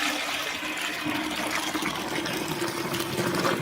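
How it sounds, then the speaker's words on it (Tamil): Water pours steadily into a container holding an oil mixture, making a loud, continuous gushing splash from start to finish. "இப்போ வந்து நம்ம என்ன பண்ணலாம்னா இந்த தண்ணியை இதுக்குள்ளே ஊற்றிடலாம்."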